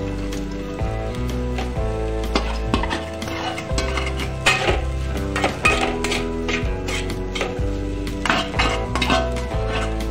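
Cooked rice is tipped into a pan with beaten egg and stirred, with steady metallic clinks and scrapes of a spoon against the pan, close and busy.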